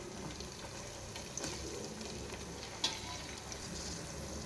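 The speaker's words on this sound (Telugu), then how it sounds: "అల్లం వెల్లుల్లి పేస్ట్ పచ్చివాసన పోయేదాకా వేపుకుందాం" Ginger garlic paste fries in a pan, a steady close sizzle with occasional faint stirring clicks.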